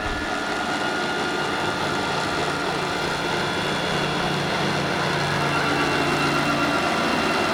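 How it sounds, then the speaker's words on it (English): A Vario MD-500E helicopter engine drones loudly and continuously at close range, a steady, dense mechanical roar with only slight changes in pitch as its RPM drops. "Sounds like the RPM's dropping."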